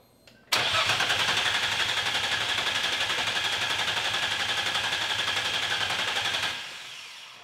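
A Nissan 350Z fitted with a barn-find supercharger cranks over without fuel in one loud, steady stretch of about six seconds, the starter whirring with a fast rhythmic chug before stopping.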